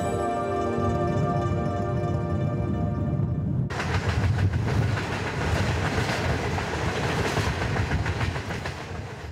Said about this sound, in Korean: 중국 내몽고 자치구의 성도 호호호트에서 기차로 6시간.